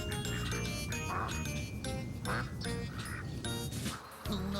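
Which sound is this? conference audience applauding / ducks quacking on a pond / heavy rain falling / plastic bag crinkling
ducks quacking on a pond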